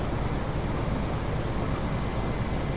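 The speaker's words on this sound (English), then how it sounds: "You can hear my helicopter is landing" A helicopter landing in the naval combat video game Carrier Command 2, heard as a continuous, dense rotor and engine roar at a constant level, filling the whole clip without speech.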